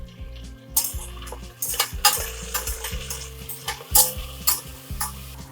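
Onions and tomatoes for veg brinji rice sauté in oil. The pan sizzles softly while a metal spoon stirs and scrapes it in irregular clinks, over a steady low rhythmic background with no talk.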